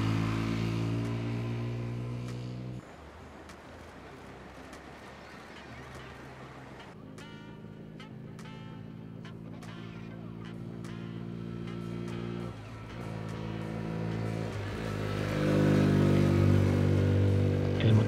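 Macbor Montana XR1 125 single-cylinder motorcycle engine while riding, revving and dropping through gear changes with a steady harmonic drone that dips and rises again, heard up close without talk.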